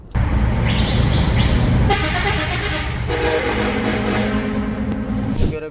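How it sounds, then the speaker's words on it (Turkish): A Ford Transit van horn honks twice in short bursts close by, followed by a steady loud engine rumble, with no voices. "bu şekilde normal kornayı kullanabiliyoruz arkadaşlar"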